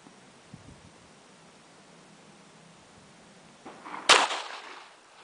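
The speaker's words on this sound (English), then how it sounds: "Let's shoot that zombie tooth." A single gunshot fired from 21 feet at a human tooth embedded in a zombie target cracks out sharply near the end, after quiet outdoor rustling.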